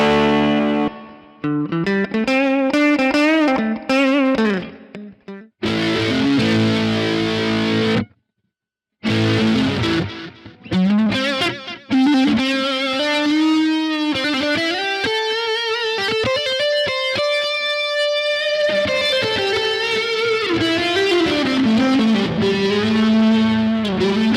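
Electric guitar through a Yamaha THR amp, played in chords and melodic runs with a heavy reverb wash and some drive, loud and up close with a brief silent gap.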